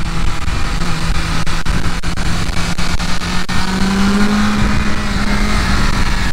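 A BMW S1000RR motorcycle with the M package is ridden hard around the Interlagos circuit: a loud, close engine note rising and falling as it accelerates, with quick sharp breaks where the quickshifter changes gear.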